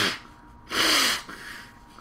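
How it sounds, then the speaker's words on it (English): Someone blows their nose nearby: one loud, rough nasal burst lasting about half a second, surrounded by softer sniffs and breathy noise. "rather than have you watch me blow my nose"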